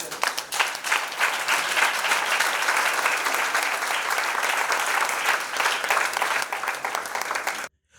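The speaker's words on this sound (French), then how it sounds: "Acclamez-vous." A large audience at a national children's ministry retreat breaks into sustained, dense applause with some cheering, loud and steady for nearly eight seconds before cutting off abruptly.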